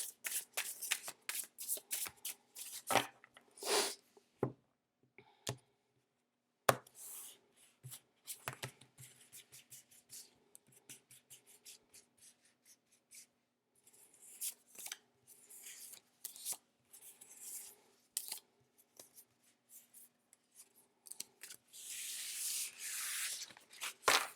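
A new tarot deck is shuffled by hand in repeated bursts of crisp riffling and sliding, broken by short pauses and ending in a louder, longer stretch of shuffling. Speech is barely present.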